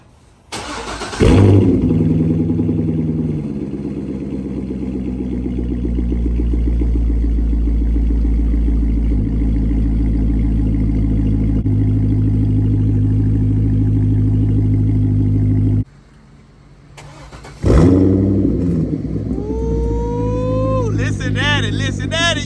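Corvette with a muffler delete cold-starting outdoors: a starter crank catches into a loud, deep rumbling idle that holds steady, cuts out, then restarts with a roar and rising revs as people talk nearby.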